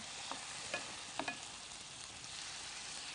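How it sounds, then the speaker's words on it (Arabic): Shrimp fries in a very hot pan with a steady, broad sizzle, while a few faint clicks of stirring utensils rise above the hiss. "الجمبري لازم ينزل في طاسه سخنه تكون سخنه قوي"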